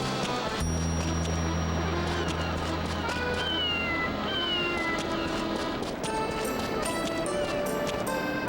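Cats meow repeatedly in the Wild ARMS 4 video game, short high cries layered over sustained background music, fairly loud and without any talking.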